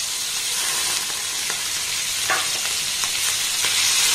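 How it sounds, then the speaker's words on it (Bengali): Cubed paneer pieces frying in hot oil, a steady dense sizzle throughout with occasional soft scrapes and clicks of stirring, close and continuous with no voices. "পনিরটাকে একটু নাড়াচাড়া করে ভেজে নেব।"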